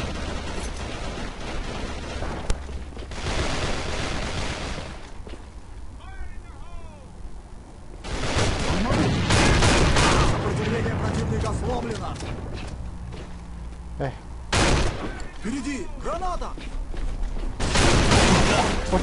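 Striker 12 shotgun firing in the shooter game AVA, several loud booming blasts in separate bursts with quieter stretches and reload clatter between them, someone talking at times.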